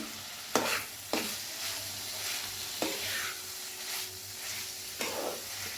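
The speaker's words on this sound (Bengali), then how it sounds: "সেটা দিয়ে এখন একটু ভালো করে নাড়াচাড়া করে" Chowmein ingredients stir-fried in a pan: a soft steady sizzle broken by several sharp spatula scrapes and knocks at irregular intervals, fairly quiet, no speech.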